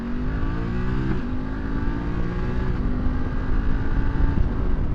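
A BMW F 850 GS Trophy motorcycle engine pulls away from a stop, revs climbing through the gears with a brief dip at a shift, steady and close over road noise.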